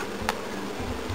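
Honeybees streaming out of a hive to forage, a dense close buzzing drone of many wings holding steady throughout, with one brief brighter whine as a bee passes near.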